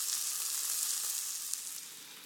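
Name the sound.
food gently sizzling in a hot pan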